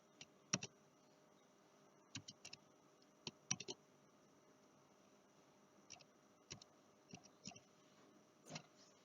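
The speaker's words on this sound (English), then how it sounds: "if we type it into our calculator" Calculator buttons are pressed in scattered quick bursts of faint, crisp clicks, with short pauses between groups of presses, close and quiet.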